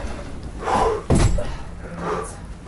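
A door is pulled shut once with a sharp, close thud after arriving out of hurricane-force wind on Mont Blanc, with soft breathy rustling before and after.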